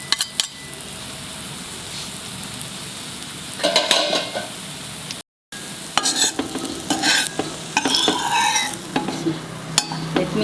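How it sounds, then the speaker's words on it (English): French toast slices fry in butter on a slow flame, a low steady sizzle under bursts of spatula and pan clatter, near and busy with a brief dropout midway. "After two slices frying, then you can put more oil"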